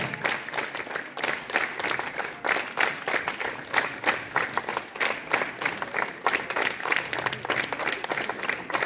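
Students at a school morning assembly clap in rapid bursts, pulsing rhythmically across the whole stretch, fairly loud and close, with faint voices underneath.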